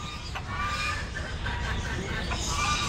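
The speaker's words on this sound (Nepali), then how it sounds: "ए भाले लोकल भाले" A local rooster clucks in short, scattered calls at moderate distance, set against a busy outdoor background of steady ambient noise at a tourist site with birds and animals nearby.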